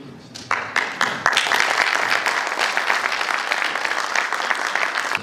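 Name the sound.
audience applause welcoming the prime minister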